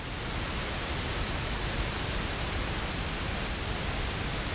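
Plain noise from the Sapel modular synthesizer module, a constant, loud broadband hiss that holds steady throughout with no variation and no voices.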